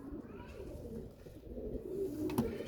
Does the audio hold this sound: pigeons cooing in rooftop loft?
yes